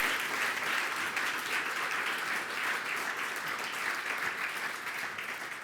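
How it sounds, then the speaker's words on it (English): An audience at a European conference panel on preventing and countering violent extremism applauds the panel, a dense, even wash of clapping that holds steady for several seconds and tapers slightly at the end, heard from a moderate distance. "Round of applause for the panel."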